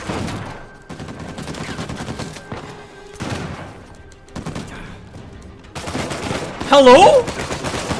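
Automatic gunfire in Uncharted 4 gameplay, loud bursts of rapid shots coming in repeated volleys with brief gaps, a voice speaking over it.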